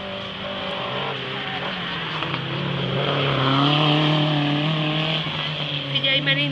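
A race car speeds past on an extreme driving track, its engine rising and falling continuously against crowd noise and an announcer talking over it.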